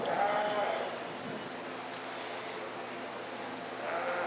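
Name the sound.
sheep bleating at a 4-H sheep show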